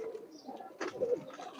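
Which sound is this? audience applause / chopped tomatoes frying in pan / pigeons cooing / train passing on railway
pigeons cooing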